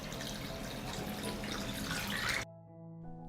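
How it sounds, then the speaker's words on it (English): Hot water is poured into a pot lined with a cloth and holding a glass jar, a close, splashing gush that runs steadily and then cuts off abruptly near the end. "I pour hot water into the pot."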